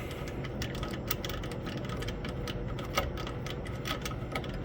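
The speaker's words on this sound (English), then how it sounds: "Then I take my spark plug, 5/8 wrench there again, stick it in there. Give it a couple twirls till it tightens up." A 5/8 wrench twirling a spark plug tight in a Cub Cadet engine, making quick light metallic clicks and ratcheting taps in a close, busy rhythm over a low background rumble.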